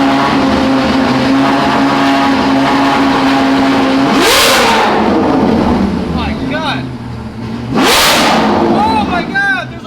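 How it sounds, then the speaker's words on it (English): A Ferrari 812 with a Ryft exhaust revs loudly in two sharp bursts over a steady engine idle, each rising then falling away, with a voice heard between them. "That is by far the loudest and most beautifully sounding exhaust I've ever heard."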